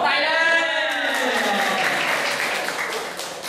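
An audience claps at a memorial anniversary and study-encouragement award ceremony, giving steady, dense applause for a few seconds while a voice sounds over the start of it.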